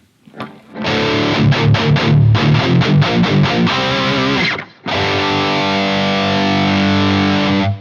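Electric guitar played through a MOOER Preamp X2 digital preamp into a loud tube amp with the master at 4.5, heavily distorted with power amp breakup; rhythmic chugging chords, a brief pause, then a long sustained ringing chord.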